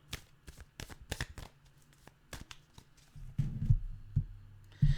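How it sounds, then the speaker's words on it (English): Tarot cards shuffled fast in a quick burst of crisp riffling snaps, followed by softer low thumps and handling noises as the deck is squared, close and fairly quiet with no talking. "I'm going to give it a fast shuffle."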